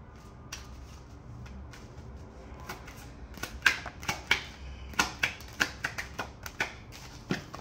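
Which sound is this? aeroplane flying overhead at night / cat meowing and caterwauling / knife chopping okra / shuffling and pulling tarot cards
shuffling and pulling tarot cards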